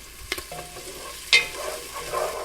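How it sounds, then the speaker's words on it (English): Onions and garlic sauté in a pot on lowered heat, giving a soft steady sizzle broken by a few clinks and scrapes of stirring, close and fairly quiet with no voices. "The onions and garlic have been cooking for about 4 minutes."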